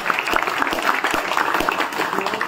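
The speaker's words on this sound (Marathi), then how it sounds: "जोरदार टाळ्या परत एकदा" Audience applause at a school friendship gathering, a dense continuous burst of many hands clapping, steady and fairly loud throughout, with no break.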